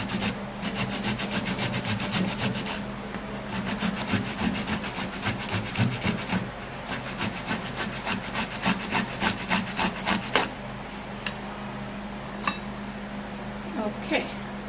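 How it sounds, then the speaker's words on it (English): A tomato is rubbed against a grater in repeated rhythmic rasping strokes, close and fairly loud, fast and regular at first, then slowing to scattered strokes. "so what I'm going to do this time, I'm going to be grating it"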